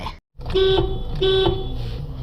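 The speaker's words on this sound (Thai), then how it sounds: "แตรติด" Two short car horn honks from a used car sound close by over a running engine, the second following about half a second after the first.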